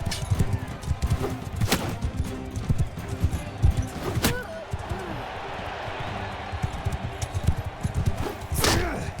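Horse hooves from Mount & Blade 2 Bannerlord: rapid, irregular thudding beats over a busy battle din, with sharp impact cracks at intervals. Someone talks over the noise now and then.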